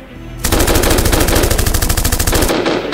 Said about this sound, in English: Shoot him out the sky.